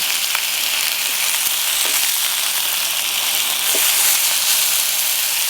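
Lemon herb chicken pieces fry in a skillet with a loud, dense, continuous sizzle, broken now and then by small pops and crackles, close up and with no speech.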